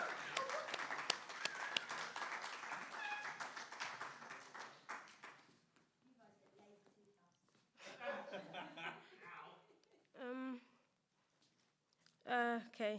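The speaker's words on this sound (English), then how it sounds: "You're gonna have to keep clapping until she gets up here." An audience at a live poetry jam claps steadily as the next performer walks up, the applause gradually fading, followed by talk and brief cheering.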